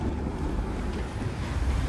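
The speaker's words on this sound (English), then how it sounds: "we took a 2-hour Danube River cruise" A river cruise boat on the Danube in Budapest rumbles steadily with a low engine drone, water wash and wind buffeting the microphone, continuous and fairly close, with no voices.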